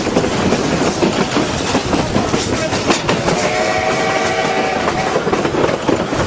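The Durango and Silverton steam train rolls over a switch near Hermosa with loud, continuous rumbling and rapid clattering of wheels on track, a sustained squealing tone rising partway through.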